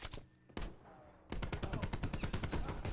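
Rapid automatic gunfire from a VKM, a Gorgon remake, in a video game, with a few scattered shots and then a fast, loud, steady stream of close rounds.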